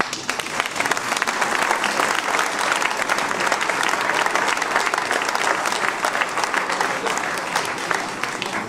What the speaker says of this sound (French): Tous ont droit à nos applaudissements collectifs.